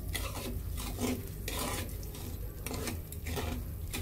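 A spatula stirs sugar in a pan until it melts, for a sweet-sour-spicy jujube pickle, giving a steady scraping and rustling with repeated strokes that sound close and moderately loud.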